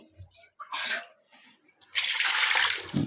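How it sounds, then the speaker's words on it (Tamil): Water is poured from a vessel into a pot of village-style country chicken curry, two bursts of splashing gush, the second longer and louder, with brief clatter and quiet gaps between. "உங்களுக்கு எவ்வளோ தண்ணி வேணுமோ இப்போ ஊற்றிக்கலாம்"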